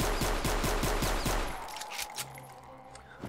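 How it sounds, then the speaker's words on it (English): Gunfire in the Wolfenstein/Doom Blade of Agony shooter game: a rapid, evenly spaced string of sharp close shots for about a second and a half, then fading into quieter ambient game noise. "Died from a pistol shot."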